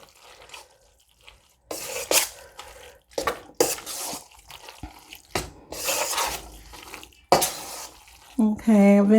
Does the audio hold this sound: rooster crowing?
no